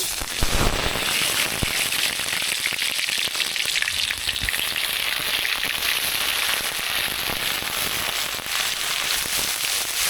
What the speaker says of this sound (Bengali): তেল গরম হয়ে গেছে এখন দিয়ে দেব পেঁয়াজ বাটা